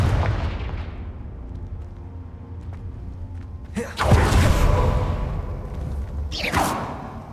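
Confringo fire spell cast in the Hogwarts Legacy video game, two sharp explosive bursts with whooshing blasts about halfway through and again near the end, over a low rumbling game ambience.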